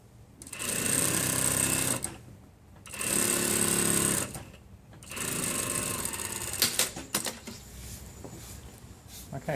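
Sewing machine stitching a long wool strip for a shawl collar, running in two steady bursts of several seconds with pauses between, then lighter handling clicks and fabric rustles as the stitching stops.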